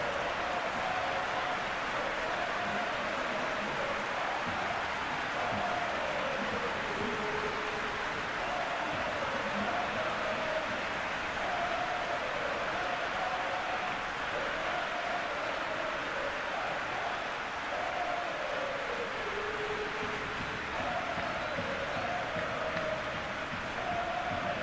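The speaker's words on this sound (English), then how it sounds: "Even some of the opposing fans are clapping that" Virtual stadium crowd in the PES21 football video game during a Barcelona versus Atlético de Madrid cup semifinal, steady applause and crowd wash with a faint repeating chant-like tone running underneath, continuous at moderate level.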